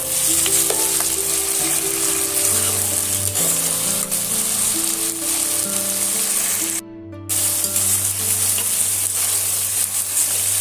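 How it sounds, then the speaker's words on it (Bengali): Onion and chopped tomato sizzle loudly in a pan for potato cutlets, a continuous close crackle with stirring scrapes throughout and a brief break near the end. "আগে থেকে যে টমেটো কুচি করে রেখেছিলাম সেটা আমি এর মধ্যে দিয়ে দেব দিয়ে আবার ভালো করে আমি এইভাবে কষাতে থাকবো"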